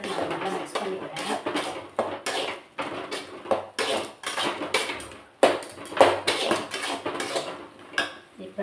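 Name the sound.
mixing spices with garam masala and chilli powder in a pan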